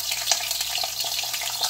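Beef frying in hot oil in a pan gives a steady, loud, close crackling sizzle with tiny pops throughout, heard alone without voices.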